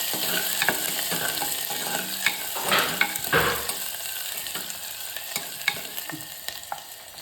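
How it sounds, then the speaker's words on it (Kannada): Three to four chilies and crushed garlic sizzle and crackle in a hot pan, with steady frying hiss broken by scattered stirring scrapes and small pops. "ಒಂದು 3ರಿಂದ 4 ಮೆಣಸಿನ್ಕಾಯಿ ಮೇಲೆ ಖಾರ ತಕ್ಕೊಂಡು ಮತ್ತು 1-2 ಬೆಳ್ಳುಳ್ಳಿ ಸಣ್ಣಂಗೆ ಜಜ್ಕೊಂಡು ಫ್ರೈ ಮಾಡ್ತೀನಿ"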